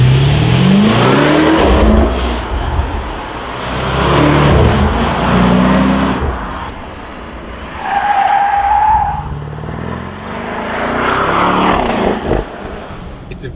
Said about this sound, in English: it's got a very trick special Akrapovic exhaust, but that's genuine sound that's coming out of it and genuine sound that's coming through the cabin.